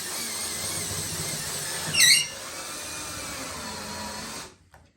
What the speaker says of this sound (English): So I'm going to put one screw here.